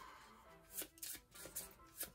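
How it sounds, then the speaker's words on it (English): Cards for the Wingspan board game are shuffled close by in a quiet room, a series of soft riffling bursts in an uneven rhythm, with no one speaking. "shuffle these up."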